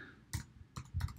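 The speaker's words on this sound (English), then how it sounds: "I'm typing in" Computer keyboard keys pressed while entering text into a ledger spreadsheet, a few soft clicks in two short bursts, close and fairly quiet.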